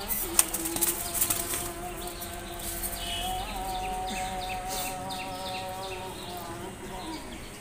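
Giribaz male pigeons in flight, a steady flutter of wingbeats with a brief sharp clap near the start, set against outdoor background noise and faint chirps.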